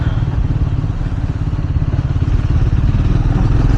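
Triumph Scrambler 400 X engine pulling hard in fourth gear, a loud, steady, throbbing single-cylinder drone with faint clattering that holds constant and close throughout.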